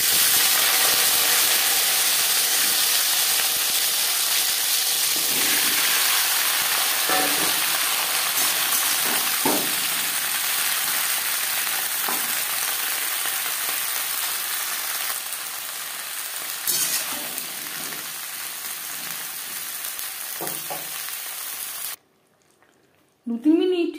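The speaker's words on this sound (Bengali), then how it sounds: "15-20 সেকেন্ড ভেজে নেওয়ার পর দিয়ে দেব শিম।" Oil sizzling in a pan before flat beans go into refined oil, a broad steady hiss that slowly fades, with a few soft knocks and a voice talking faintly in the background before it cuts off.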